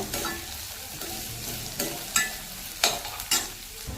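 Onions frying in a pan while being stirred, a continuous hiss of oil broken by several sharp spoon scrapes and knocks against the pan, close and fairly loud.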